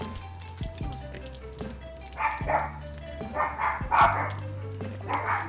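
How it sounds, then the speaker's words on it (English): Several puppies and small chihuahuas bark in short, sharp yips, some bursts overlapping, close by over a low steady hum and background talk. "Puppies are barking."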